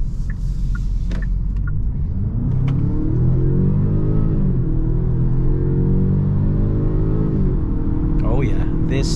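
A 2023 Genesis G70 with the 2.0 turbo engine accelerates in Sport mode, its engine rising in pitch as it pulls through the gears of an 8-speed automatic, heard from inside the cabin with a low road rumble.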